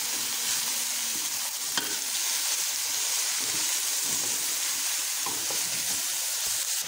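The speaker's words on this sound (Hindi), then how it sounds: "और हल्के हल्के हमने फ्राई करते रहना है और ढक्कन बिल्कुल इसका बंद नहीं करना, ये हल्के हल्के इसे फ्राई करना है।" Vegetables for fried rice fry in an uncovered pan, giving a steady bright sizzle with occasional clacks and scrapes of stirring, close and alone without speech.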